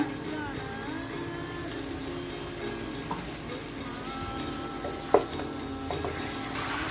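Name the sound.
water added to sizzling basil paneer chicken in pan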